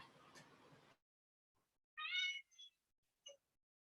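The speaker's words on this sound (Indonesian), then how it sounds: "Maaf, anak-anak, kucing Bapak bersuara." A cat meows clearly indoors, one drawn-out close meow followed by a couple of short faint chirps, after a brief burst of noise and then near silence.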